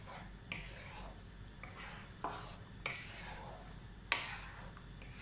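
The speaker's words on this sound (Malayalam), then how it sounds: "നന്നായിട്ട് ഇളക്കി യോജിപ്പിക്കണം." Fried chicken stirred into butter chicken gravy in a pan, with a soft steady scraping and rubbing of a utensil and a few sharper knocks against the pan.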